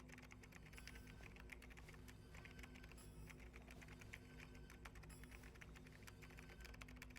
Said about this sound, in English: That's a lot of typing.